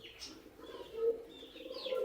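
Pigeons, ornamental tumbler birds kept in a loft, give soft low repeated coos, faint and close, with light chirps drifting above.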